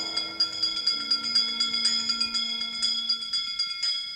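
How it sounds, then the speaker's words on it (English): Ghostly bell ringing on a 1969 Haunted Mansion story record, a bright, steady ringing tone repeated in a quick regular rhythm, loud and alone with a faint low hum beneath. "give us a hint by ringing a bell."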